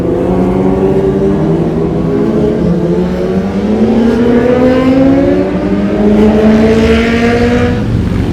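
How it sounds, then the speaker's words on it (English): Loud motorcycle engines revving and rising in pitch as bikes accelerate and roar past close by on the Tail of the Dragon road, several overlapping one another. "Here comes some bikes getting ready to run it."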